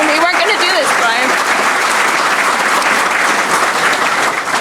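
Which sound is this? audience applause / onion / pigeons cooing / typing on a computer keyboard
audience applause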